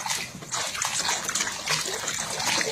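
A parrot bathing in a tub of water, splashing continuously at close range, with steady dribbling and sloshing water and no talking.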